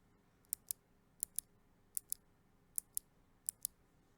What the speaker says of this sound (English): They are Kailh Jade switches. And they are very clicky.